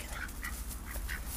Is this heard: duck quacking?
yes